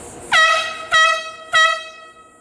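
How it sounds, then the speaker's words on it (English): Three loud air horn blasts, about half a second apart, sounding at a Traxxas RC car drift event, each a sharp harmonic honk that cuts off abruptly over a quiet background. "There's the air horn."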